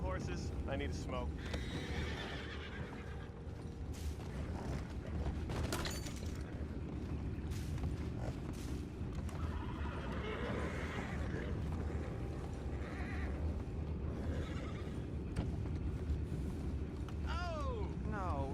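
Horses whinny and neigh several times in the video game Red Dead Redemption 2, amid clip-clopping hooves and a busy, murmuring background with some talking.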